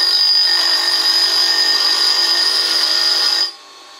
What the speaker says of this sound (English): We flip it over and we grind the other side.